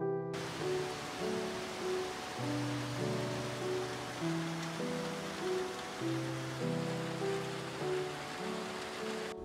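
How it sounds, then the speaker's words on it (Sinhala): A heavy downpour at home gives a steady, dense hiss of rain that runs unbroken throughout, partly covered by gentle melodic music. "මේ බලන්නකෝ ආයෙත් අනෝරාවට වහින්න පටන් ගත්තා"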